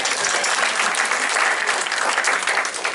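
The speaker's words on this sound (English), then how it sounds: "Round of applause if you thought it was funny." Steady, dense applause from a comedy club audience fills the whole stretch, loud and continuous with no voices on top.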